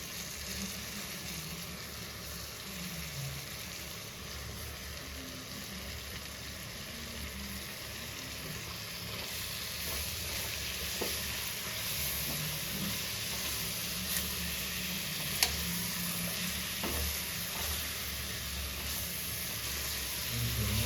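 Steady sizzling of onions and tomatoes frying in a pan, a continuous moderate hiss with a few faint clicks, no voices.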